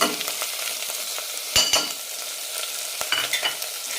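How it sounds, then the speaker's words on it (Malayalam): Spices being sautéed in hot oil for a bottle gourd and red gram curry, with ground pepper, chilli powder and roasted coriander powder. Steady close sizzle runs throughout, with a few sharp stirring scrapes of the spoon against the pan. "നന്നായി വഴറ്റാം"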